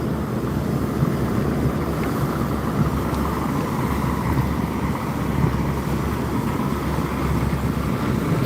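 The passenger launch Mayur 7 travels along a river from Dhaka toward Chandpur, its engine a steady low drone under broad wind and rushing water noise, continuous and unbroken with no voices.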